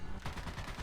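A light machine gun fires in War Thunder, heard as a brief, quiet burst of rapid, evenly spaced shots in a tank battle.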